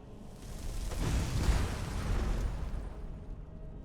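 A magic spell explodes in Skyrim with a low, rumbling boom that swells and rolls for a few seconds before fading out.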